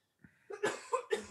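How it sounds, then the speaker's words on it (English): A roommate coughing nearby, a short run of three coughs, faint and alone. "roommate is coughing"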